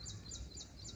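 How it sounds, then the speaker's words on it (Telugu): Birds calling in a home garden where fruit trees like orange, blueberry and mango grow, with short repeated high chirps over a steady low background hum, fairly faint and distant. "వినిపిస్తుందా పిట్టల చప్పుడు?"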